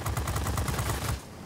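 Rapid machine gun fire from a P-47B Thunderbolt fighter plane in World of Warplanes, a loud, close, continuous burst of evenly spaced shots that stops abruptly near the end.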